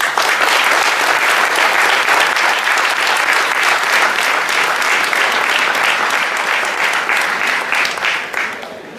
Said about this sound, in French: Je vous demande d'applaudir très fort Mohamed Ali Chahine.